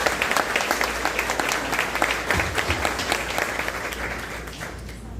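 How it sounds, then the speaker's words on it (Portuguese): A church congregation applauds the pastor, dense steady clapping from many hands filling the room, loud and continuous before slowly thinning out. "Uma salva de palmas ao nosso pastor"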